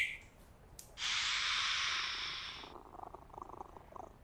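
A cat in poor condition in the Sherlock Holmes and Jack the Ripper game gives a short breathy sound, then a sustained hissing purr-like rasp for about two seconds, fading into soft rhythmic pulses, all quiet and alone.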